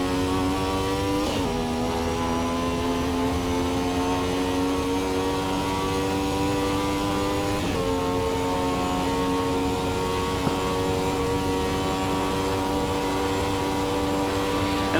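A Ferrari 312T Formula One car engine holds third gear in a steady high-pitched scream with strong harmonics, rising slightly in pitch with a couple of brief throttle dips, loud and continuous throughout.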